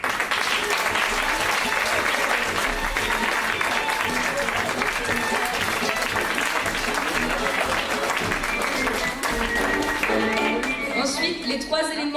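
An audience applauds at a Christmas show for hospitalized children at the American Hospital in Reims, with loud, dense and sustained clapping throughout and voices mixed in.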